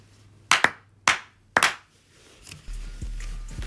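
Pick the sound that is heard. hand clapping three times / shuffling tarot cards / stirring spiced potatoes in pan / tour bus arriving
hand clapping three times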